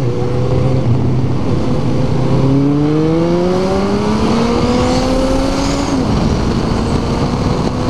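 Yamaha XT motorcycle engine revving hard at night, pitch climbing steadily through a long acceleration, then dropping briefly before rising again, loud and close throughout.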